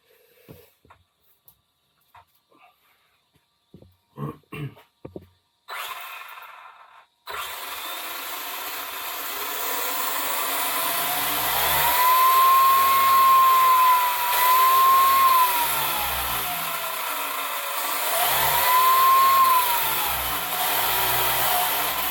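A Losi RC dragster's electric motor revs up after a few light handling knocks, then holds a loud, sustained high whine for about fifteen seconds, the pitch rising and dipping as the throttle is blipped to balloon the tyres.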